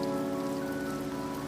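Steady rain falls on city buildings, awnings and windows, a dense even patter with a faint tonal hum underneath, continuous and close.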